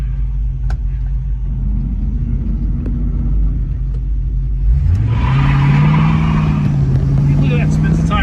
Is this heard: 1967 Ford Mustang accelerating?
yes